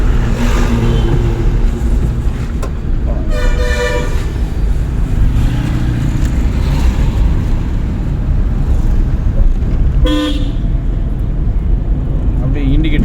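Car engine droning and revving up during a driving lesson, a steady low rumble throughout with brief higher whines, while an instructor talks over it.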